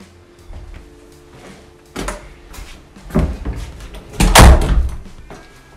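A door in a steel frame is swung and knocked as it is hung, with a few dull thuds and metallic clunks that grow louder toward the end, alone in a workshop.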